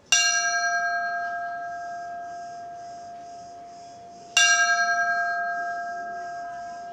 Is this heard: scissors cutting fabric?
no